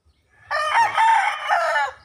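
A young gamefowl stag in a backyard breeding pen lets out a single loud, close crow that rises, holds and tails off over about a second and a half, with no talking.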